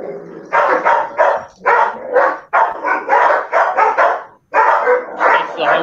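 Hounds barking in the background, a steady series of loud, close repeated barks in bursts with short pauses between them.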